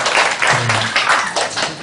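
Church congregation applauding during a Sunday service, a dense, loud burst of clapping from many hands, with a brief low tone passing underneath.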